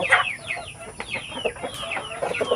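Native roosters squabble and cluck in a farmyard, a busy run of short overlapping clucks and squawks close by, with no talk.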